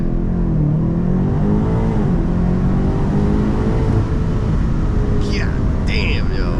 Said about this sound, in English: Alright, ready to activate launch control.